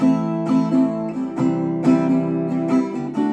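Acoustic guitar chords strummed in quick bursts, the strokes arriving unevenly and slightly ahead of a steady pulse, close and moderately loud.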